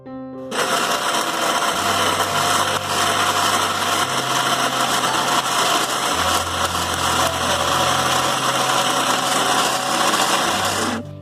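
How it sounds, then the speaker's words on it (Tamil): A loud, steady motor whirs and grinds nonstop as a mixer grinder blends a thick coriander chutney paste with a little water, its pitch wavering slightly now and then. "இதை நைஸா அரைச்சி எடுத்துப்போம்."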